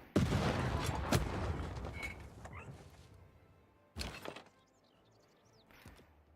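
Cities come under bombardment in Civilization VI, a dense rumble of blasts and crashing impacts that fades over a few seconds, then a second sharp explosive burst with a brief rattle after it.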